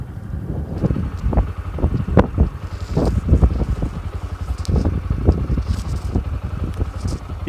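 Hot wind buffets the microphone in an open white salt desert on the road toward Khavda, producing a continuous rumbling gusty roar with repeated low thumps, loud and close, with no talking.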